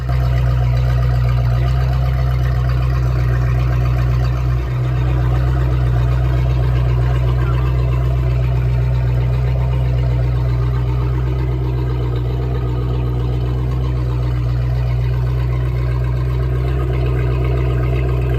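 A boat engine at operating temperature idles continuously with a constant low hum and throbbing drone, unchanging throughout, with no voices.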